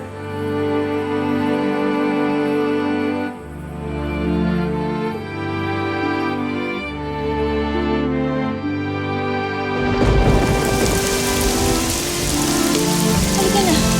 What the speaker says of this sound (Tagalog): Umuulan na, Ivan.